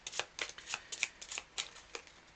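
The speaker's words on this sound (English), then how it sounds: "So I'm going to shuffle it back into the deck" A deck of cards shuffled during a SETI board game session: a quick run of about nine crisp riffling bursts in an uneven rhythm, close and moderately quiet, with no talking.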